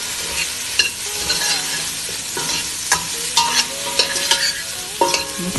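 A spoon repeatedly scrapes and clinks through Arabic marag stew with condensed milk in a pot over sizzling heat, in a steady close-up rhythm with several sharp knocks and no voices.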